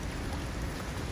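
Heavy rain pours down in Jeju, a dense steady hiss of drops with no gaps.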